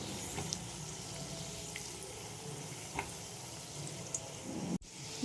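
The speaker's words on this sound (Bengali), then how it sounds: "একটু ধৈর্য নিয়ে ভাজতে হবে।" Sweet potato pantua dumplings fry in oil, making a faint, steady bubbling sizzle with a few soft clicks and a brief bump near the end.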